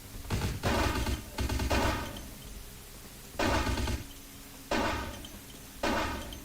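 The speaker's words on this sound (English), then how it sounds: "Remember, they're using submachine guns." Bursts of submachine gun fire ring out in a Vampire: The Masquerade video game, about five loud, dense volleys of rapid shots lasting roughly half a second to a second each, separated by short pauses, with no one talking over them.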